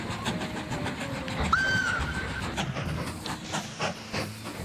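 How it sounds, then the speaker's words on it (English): A steam train rolls past in the Mashinky train game, its steady chuffing and clatter running throughout, with a short, bright whistle blast cutting in near the middle and then dropping away. "the train moves past it, so it's leaving the sound of its own whistle behind"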